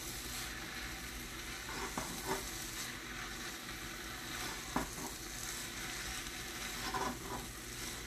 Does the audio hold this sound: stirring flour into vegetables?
yes